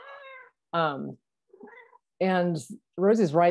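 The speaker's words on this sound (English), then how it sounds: "I'm sorry about my cat too." A pet cat meows several times indoors, close and clear, with drawn-out rising and falling cries between short pauses, as a person speaks briefly.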